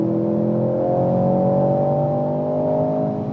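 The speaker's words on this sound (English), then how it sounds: "when you go off the throttle, you also have some plop, plop, plop from the exhaust" A Mercedes or BMW car engine revs in a sustained, steady drone with a slowly shifting pitch, loud and close, with no distinct exhaust pops and no talking.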